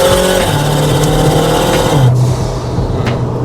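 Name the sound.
Mitsubishi Lancer accelerating on a mountain road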